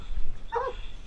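A dog gives a single short, sharp bark or yip, close by, over a low background rumble.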